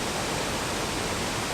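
Water rushes steadily beside the old mill at Babcock State Park, a constant broadband roar that holds at an even level throughout.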